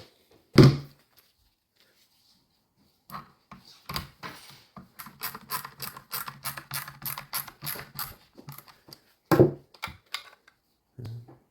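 Parts of an M1 carbine being screwed and clamped back together: a sharp metallic clack, then a quick series of close ratcheting clicks and small mechanical knocks, ending with another solid clack.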